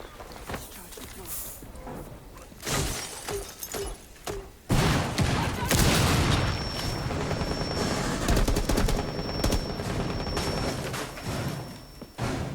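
Gunfire in Rainbow Six Siege: loud, close bursts and single shots crack and thump over game noise, with impacts and a sustained rattle of fire in the second half, while players talk.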